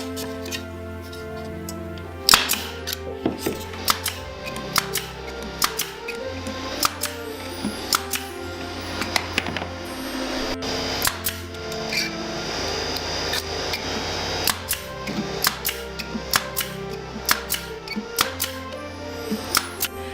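A staple gun fires staples into glued wooden trim on a farm-style wooden Christmas tree box stand, giving a string of sharp, irregular clacks and ticks at close range over a steady workshop hum, with no talking.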